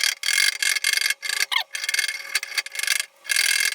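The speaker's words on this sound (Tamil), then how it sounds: "இந்த மாதிரி உப்புத்தாள் எடுத்து சைடுல தேவையில்லாம ஒட்டிட்டு இருக்க பகுதியை தேய்ச்சி எடுத்துடலாம்" Sandpaper scrubbing a gas stove burner, a close, loud, rhythmic rasping in repeated back-and-forth strokes with short pauses between them.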